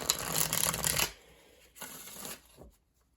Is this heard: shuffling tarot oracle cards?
yes